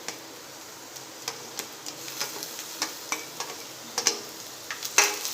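Chopped tomato and half a capsicum stirred into softened onions in a frying pan, giving soft sizzling with a steady run of light clicking spatula taps and scrapes, fairly close and without talk.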